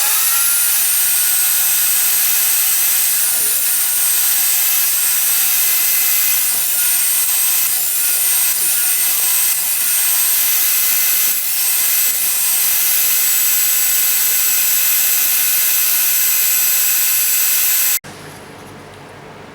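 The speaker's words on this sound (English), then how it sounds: "The blade on my table saw is already set to 3/8 of an inch, and I have some 3/4 inch scrap." A table saw runs loudly and continuously through a piece of 3/4 inch wood scrap with the blade set to 3/8 inch, a steady high whine with slight pitch dips as the cut proceeds, then cutting out near the end.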